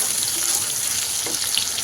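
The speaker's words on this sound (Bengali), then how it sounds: "এটাকে ভালো করে নেড়ে নেব" Spiced masala sizzling in a frying pan as it is stirred, a steady bright hiss with faint scraping, close and continuous without talk.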